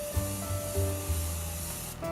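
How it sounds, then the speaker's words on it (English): Morphe Prep and Set setting spray misted onto a face in a few close, soft hissing bursts, with a short sharper spritz near the end, and no talking. "I'm going to use the Morphe Prep and Set setting spray on the right side of my face."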